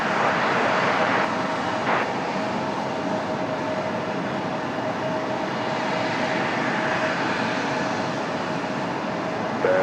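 A jet airliner lands on runway 23 left at Raleigh-Durham airport, its engines a loud, steady roar that holds throughout, with faint radio chatter underneath.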